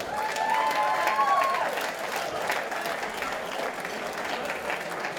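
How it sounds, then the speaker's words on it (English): Crowd applauding and cheering for two MMA fighters at a SuperFight event, loud steady clapping in an arena with an announcer's voice briefly heard at the start. "Please give them a big round of applause."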